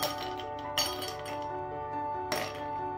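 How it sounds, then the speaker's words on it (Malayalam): Ice cubes dropped into a serving glass of mint lime juice: two distinct glassy clinks, one early and one near the end, close by over steady background music. "നമുക്കിത് സെർവ് ചെയ്യുന്നതിന് മുന്നായിട്ട് ആവശ്യത്തിന് ഐസ് ക്യൂബ്സ് ഇട്ട് കൊടുക്കാം"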